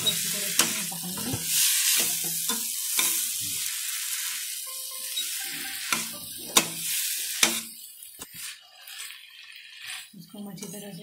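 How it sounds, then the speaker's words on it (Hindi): Mustard greens (sarson) cooking in a pan with spices over a lowered gas flame, being stirred and mixed, with soft sizzling and repeated scraping strokes, close and moderately loud. "इसको हम अच्छी तरह से इसमें चला लेते हैं, मिक्स कर लेते हैं मसाले के अंदर हमारे इन पत्तों को।"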